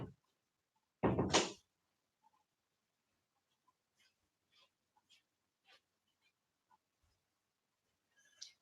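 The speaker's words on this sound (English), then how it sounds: "I have to close the door so that I can limit interruptions." A door closing once with a single loud, brief thud, followed by quiet room tone with faint scattered small noises.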